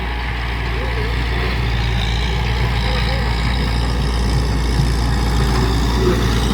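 A six-row walk-behind tractor rice seeder runs in a paddy field in Laos, its engine a loud, steady, close drone that holds unbroken throughout.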